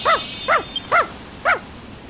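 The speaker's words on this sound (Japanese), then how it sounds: "あ、犬だ。" A dog in Dragon Quest Builders 2 gives four short, evenly spaced barks, clear and close, with no voices over them.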